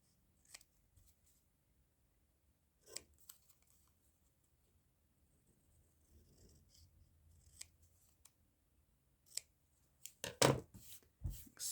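Scissors trimming paper for a vintage pink craft journal, a few quiet isolated snips spread out, then a louder cluster of quick cuts near the end, with no talking.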